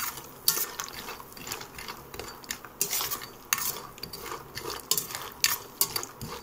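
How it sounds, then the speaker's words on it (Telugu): Urad dal vadiyalu fry in oil on a low flame with a soft continuous sizzle, punctuated by repeated sharp clinks and scrapes of a ladle stirring in the metal pan; no one speaks. "తర్వాత మనము మినప వడియాలు ఫ్రై చేసుకుందామండి."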